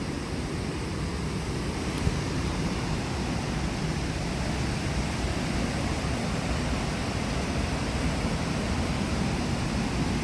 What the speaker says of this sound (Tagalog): Ang lakas talaga ng alo ng tubig.